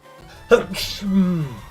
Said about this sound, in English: That was an aggressive sneeze.